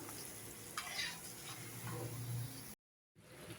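Crab pieces sautéing with tomato and onion in a pan for a Tamil-style crab masala, with a steady sizzle and a few stirring scrapes close by, then a brief cut to silence.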